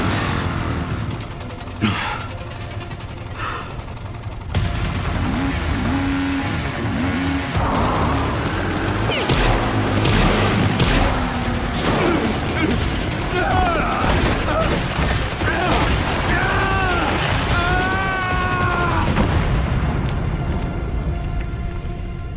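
Motorbike roaring and revving in Resident Evil Requiem as a house collapses around it, with RPG explosions, crashes and debris in a loud, continuous, chaotic game soundscape; a voice speaks briefly over it.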